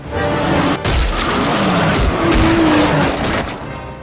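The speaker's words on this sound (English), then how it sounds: "Brian gets hit by a car." A cartoon car screeches its tires in a loud, sustained skid with engine roar and thumping impacts, a dense chaotic burst lasting several seconds without speech.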